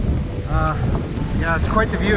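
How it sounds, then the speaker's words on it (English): Wind gusts across open grassland along a narrow hiking path in the Caledon Hills section of the Bruce Trail, a steady low rushing with buffeting on the microphone, running under a man's speech throughout. "It's very windy."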